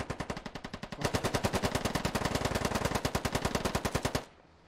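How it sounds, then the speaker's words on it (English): Sustained automatic gunfire in the video game Squad, a rapid, evenly spaced burst of loud shots running about three seconds after a few opening rounds, then cutting off abruptly, with no talk over it. "We're triggering it now. We're shooting."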